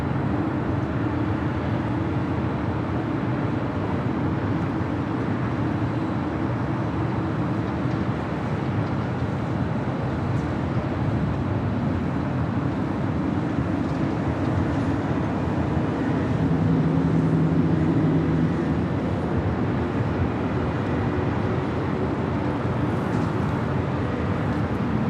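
A KLM airliner on Flight 602 to Amsterdam takes off from the north side at LAX, a steady broadband jet roar that stays loud for the whole stretch and swells slightly near the end, with no voices.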